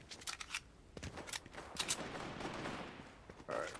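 Gunfire in the Fortnite video game, quick bursts of sharp distant shots clustered in short volleys with pauses between, fairly faint against the game background.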